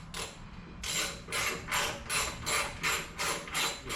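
A ratchet tightens bolts on a rear turn signal relocation kit for a 2022 Harley-Davidson Street Bob 114, giving about eight evenly spaced bursts of rapid clicking, close and alone.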